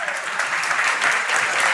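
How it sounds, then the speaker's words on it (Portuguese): An audience bursts into loud, dense applause at a Portuguese-language religious gathering, sustained and even for just under two seconds. "Uma salva de palmas pro John Haggai, vai."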